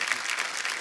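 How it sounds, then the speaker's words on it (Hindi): A studio audience at a Hindi comedy talk show breaks into loud, dense applause, a continuous roar of many hands clapping together. "जोरदार तालियां एक बार हो जाए"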